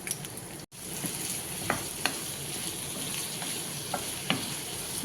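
Prawns and tomato fry in a pan with a steady, soft sizzle, broken by a few sharp stirring scrapes and one brief dropout near the start.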